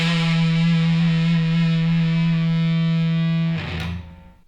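A guitar through a fuzz pedal rings out one thick, heavily distorted chord with long sustain, loud and close, then cuts off and decays near the end.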